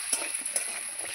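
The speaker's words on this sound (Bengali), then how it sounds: "একটু হলুদ দেব, এই যে হলুদ দিয়ে ভালো করে নেড়ে চেড়ে এটাকে লাল লাল করে আমি ভেজে নেব" Turmeric and salt stir-frying in a pan for an egg and potato curry, a soft steady sizzle with light scraping strokes of a spoon, close and continuous, no voices.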